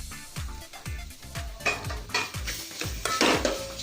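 A carrot and beetroot fry is stirred in a pan, with a spoon scraping in a quick, regular rhythm of close strokes over a soft sizzle, with occasional metallic clinks.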